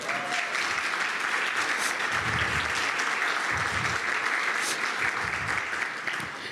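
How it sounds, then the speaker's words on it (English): Sustained audience applause at a conference's welcome session, a continuous wash of many clapping hands that stays loud for several seconds, with faint murmuring beneath. "Round of applause"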